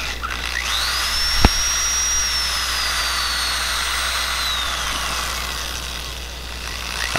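Power drill whirring steadily as it drives a prototype wood carving duplicator for guitar bodies, a high whine that rises and slowly falls in pitch over a soft mechanical hum, with one sharp click early on.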